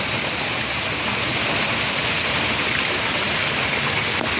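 Water pours steadily from an artificial waterfall in a city park butterfly garden, a loud, continuous, close rushing wash with no break.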